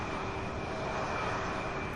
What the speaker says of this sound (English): Nice landing there by American Flight 3900.